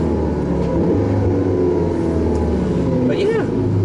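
Porsche 918 Spyder engine humming steadily inside the cabin while driving, a continuous low drone throughout with a brief higher whine near the end.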